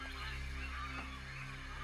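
Agitated birds calling in a forest where trees are being cut, with honking, goose-like cries over a steady low hum.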